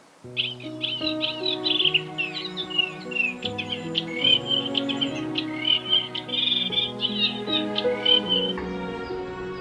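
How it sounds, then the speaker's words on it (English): A willow warbler sings repeated bright, fluttering phrases throughout, heard from a wildlife hide at Mere Sands Wood, with other birds and insects adding a steady layered chorus beneath. "the willow warbler did continue to warble while I was in there"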